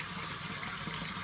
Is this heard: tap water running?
yes